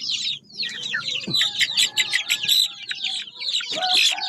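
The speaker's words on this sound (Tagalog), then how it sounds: "Yung mga manok ko." Three-month-old chickens cluck and chirp in a busy, overlapping flock, close up, with a few louder calls standing out.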